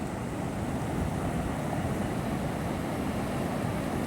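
Fast-flowing flood water near Bhima Lingam makes a steady, broad rushing roar with some wind buffeting on the microphone. It is continuous and fairly even, with no speech.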